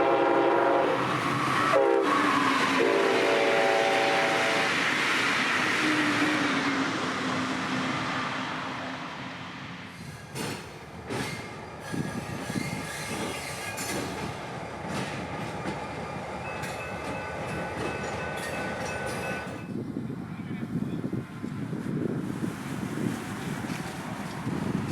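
A Florida East Coast Railway freight train sounds its horn in a loud blast at the start, then rumbles and clanks past nearby with rolling wheel noise and wind for the rest of the stretch.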